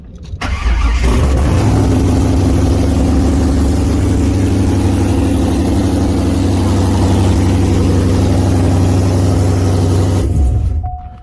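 A cammed Corvette C5 engine cranks and fires up loud and close, then runs with a heavy, lopey rumble for about ten seconds before shutting off.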